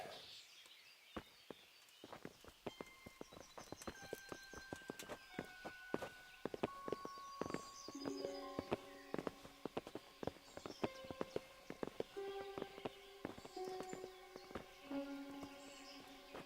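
Horse hooves clip-clop in the medieval game Kingdom Come: Deliverance, a steady run of sharp knocks that grows busier midway, mixed with musical tones and ambient game sound, with no talking.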